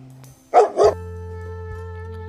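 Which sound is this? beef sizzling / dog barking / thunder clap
dog barking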